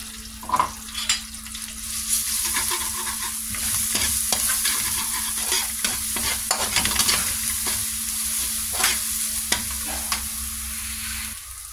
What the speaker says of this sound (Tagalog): Gisahin na natin yung mais. Ito na yung bawang.